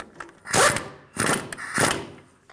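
Castle nut on a Toyota Tacoma outer tie rod being snugged down with a hand tool: three bursts of close ratcheting and rasping, each about a half-second long, separated by short pauses.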